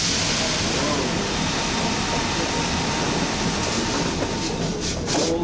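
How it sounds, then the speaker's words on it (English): Steady, dense mechanical rumble and rattle of a water-wheel-driven winnowing machine in a watermill running continuously, with rushing water-like noise throughout and no pauses. "This machine is driven by the water wheel."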